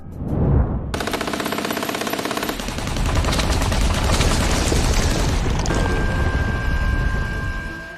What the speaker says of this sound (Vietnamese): Pháo phòng không sao dừng rồi.